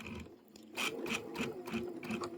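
A sewing machine stitches a crossbody bag in several quick, rhythmic bursts of close mechanical whirring, quiet overall and without talk.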